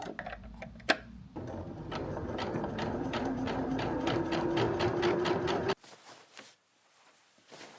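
A sewing machine runs a French seam on a summer garment, a continuous whirring hum with a fast ticking needle rhythm, then cutting off abruptly and leaving faint clicks and handling sounds.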